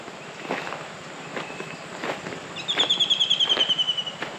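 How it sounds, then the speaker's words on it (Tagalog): Birds chirp at a campsite in Norzagaray, Bulacan: scattered calls early, then a rapid run of repeated high notes, mixed with soft footsteps and light rustling close by, no talk. "Huni ng ibon, di ba?"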